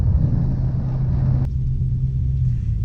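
A Dodge Hellcat in track mode rumbles with a deep, steady low drone heard from inside the cabin, loud and continuous with no voices.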